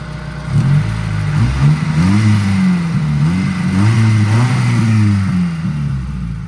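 Honda Civic engine close by, rising and falling through several loud revs with a rough, buzzy tone before settling back toward a steady idle.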